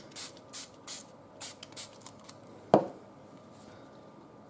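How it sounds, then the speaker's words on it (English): Several short, soft bursts of spray paint hissing from an aerosol can in quick succession, followed by a single sharp knock, then quiet. "I'm going to kind of spray it from farther away"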